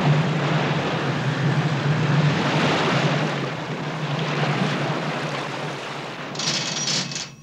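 The research ship Calypso holds position at sea as its reversed propellers and outboard motors thrust, giving a steady, loud, broad churning roar of water and engine wash that fades slightly near the end.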